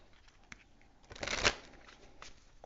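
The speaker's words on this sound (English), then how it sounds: "I pre-shuffled all the decks. I'm just going to shuffle a little bit more." Tarot cards are shuffled softly in a brief riffle, a quiet papery flutter with a few light taps.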